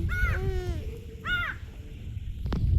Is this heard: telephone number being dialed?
no